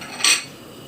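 A short scrape of a utensil against a bowl while stirring powdered sugar into ghee, one brief bright rasp amid quiet kitchen background.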